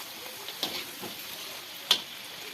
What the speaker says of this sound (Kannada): ಈಗ ಕಡುಬನ್ನು ಎರಡೆ ಹಾಕಿ ಕರ್ಕೊತಾ ಇದ್ದೀನಿ.